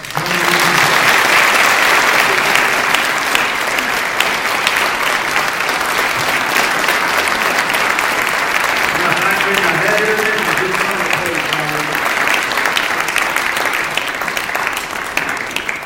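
Large crowd applauding after a talk at the Clinton Library, a long, loud, sustained round of clapping that stays even, with faint voices underneath partway through.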